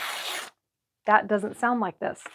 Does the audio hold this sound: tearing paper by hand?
yes